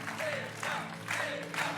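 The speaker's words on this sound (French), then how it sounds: "On l'applaudit" Studio audience applause on the French TV game show A prendre ou à laisser, a steady mid-level wash of clapping that swells in waves, with a host talking over it.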